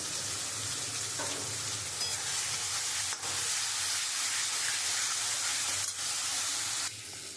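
Masala for a Bombay duck (lote fish) curry sautéing in a pan makes a steady hissing sizzle with soft stirring, broken by a couple of brief dips.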